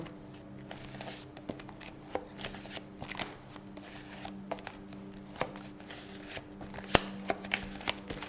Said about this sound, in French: Faut bien que je le mélange hein, pour donner l'énergie aux cartes.